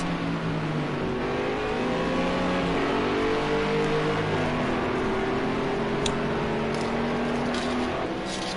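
A McLaren and a Nissan GT3 race car battle at Algarve in a racing video game, their engines revving and shifting through rising and falling pitches. The engine drone stays loud and continuous, with faint clicks near the end.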